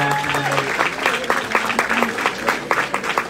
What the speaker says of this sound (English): Can we put a round of applause for this family for the event they brought